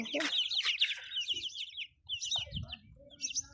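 Chicks sunning outdoors in a breeze peep and cheep in high, rapid chirps, with a few low clucks from a hen, all close by with a little background noise.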